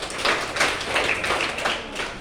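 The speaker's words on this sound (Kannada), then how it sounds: "ಹರ್ಷಿತನ ಒಂದು ಜೋರಾದ ಚಪ್ಪಾಳೆ." Loud applause for a student named Harshitha at a school event, a dense burst of many hands clapping, close and continuous for a couple of seconds.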